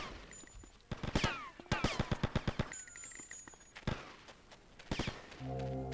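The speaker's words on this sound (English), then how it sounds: "They shoot me from the roof as well" Gunfire in GTA Vice City comes in rapid bursts of sharp shots, several quick volleys spread through the moment with short pauses, loud and close, and a low engine-like hum at the end.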